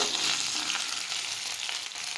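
Fried potatoes sizzle and crackle in a pan after ginger paste is added while cabbage is being cooked, a steady close frying hiss with light stirring, no talking.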